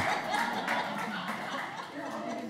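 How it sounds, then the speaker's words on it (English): A church congregation claps at a moderate level, blended with light chuckling and murmuring voices in a reverberant room. "Yeah, so you're clapping. Why are you clapping? You're clapping."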